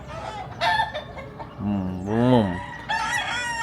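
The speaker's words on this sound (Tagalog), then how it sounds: "Daming mga manok, oh." Many chickens cluck around a lodging in Atok, Benguet, and one rooster gives a loud, close crow in the middle. Someone speaks briefly nearby.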